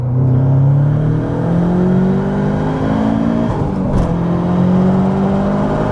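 A turbocharged fifth-generation Honda Prelude with a big turbo accelerates hard from inside the cabin, its engine drone climbing steadily in pitch under a constant loud whir, with a brief shift blip near the end.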